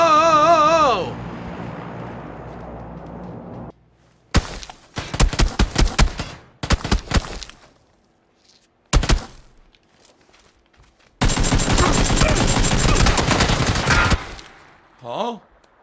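Bursts of rapid automatic gunfire from the video game PlayerUnknown's Battlegrounds, loud and close, come in several separate volleys with short gaps and then one long sustained stream of shots near the end.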